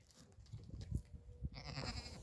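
Dairy goats in a pen, with a close, strained bleat rising near the end over low shuffling and thumping.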